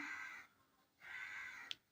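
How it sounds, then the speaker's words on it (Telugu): Two harsh caws from a crow ring out, separated by a short pause, with a brief sharp click near the end; fairly faint and distant. "ఎందుకంటే బయట పక్షులు అరుస్తున్నాయి"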